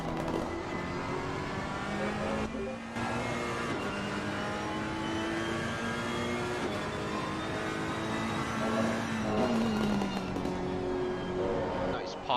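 A Ferrari GT3 racer in Real Racing's GT3 World Championship, heard on board under steady commentary: sustained engine drone with shifting revs and scattered crackling exhaust pops, loud and continuous.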